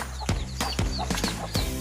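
Chickens cluck near a waterfall trail in a rural barangay of Sibalom, Antique, with a few sharp, loud bursts recurring over a steady low rumble of outdoor background noise.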